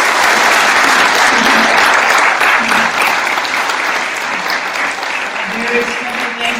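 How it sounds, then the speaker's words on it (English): A panel audience at Holocaust Museum Houston applauds the panelists after a civil liberties discussion, with steady, dense clapping that fills the whole stretch at close, loud level. "can we give our panelists a round of applause?"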